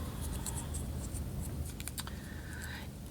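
Light clinks and scrapes of metal scissors being shifted across a table, a few brief handling sounds over a steady low background hum.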